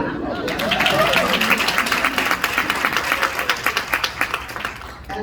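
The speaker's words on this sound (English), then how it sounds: "Another round of applause." Audience applause at an evening chamber of commerce gathering, a full round of clapping with crowd murmur that thins into more distinct individual claps toward the end.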